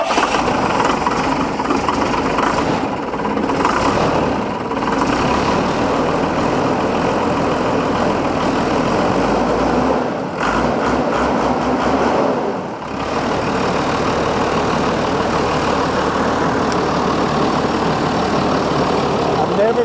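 A salvaged scrap-yard bucket truck's engine runs steadily and loudly throughout, a continuous rumble with slight dips in revs, while people talk around it.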